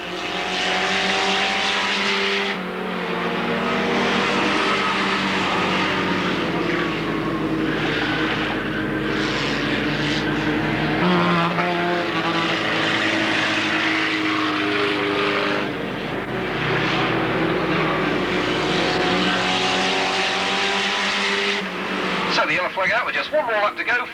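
Race cars at an Alwalton race meeting roaring onto the start straight, a loud continuous engine drone that swells as they pass, with a commentator talking over it throughout.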